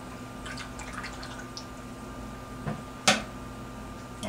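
A paintbrush swished and tapped in a water jar during outdoor painting, with faint scattered drips and clinks and one sharp knock against the container.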